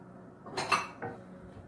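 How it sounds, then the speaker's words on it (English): A small bowl being taken out and set down in a home kitchen before cracking an egg for banana bread, a soft clink of dishware followed by a quieter knock, faint and close. "So I'm going to get a little bowl."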